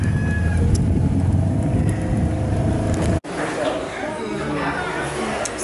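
Steady low engine drone and road rumble inside a moving car on a trip around Punta Cana in the Dominican Republic, loud and continuous, with a brief dropout about halfway before the rumble resumes with a rougher texture.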